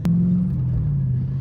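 Car fitted with a truck engine idling loud and close, a deep steady rumble that begins with a sharp click and settles slightly lower in pitch.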